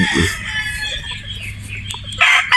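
Boston Roundhead gamecock giving a few short throaty clucks close by, with a louder call at the end and low farmyard rumble behind.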